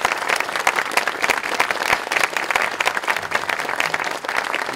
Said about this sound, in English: Let's give the Parks and Rec team a round of applause.